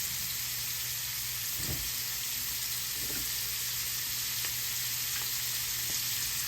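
Onions and garlic fry in oil in a pan with a steady, even sizzle close by, broken by a few faint clinks and stirring sounds.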